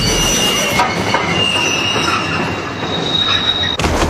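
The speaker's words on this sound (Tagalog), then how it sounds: "Hindi nyo pwedeng basta na lang pahintuin ang tren." An animated train rumbles loudly with steady metallic squealing of wheels on rails as it is forced to stop, a continuous grinding screech that cuts off abruptly near the end.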